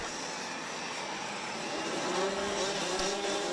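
Rotax DD2 racing karts in a bunched field at a Euro Trophy final in Brück, their engines a steady, dense, high-pitched roar that holds loud and constant throughout and swells slightly toward the end, with no talk.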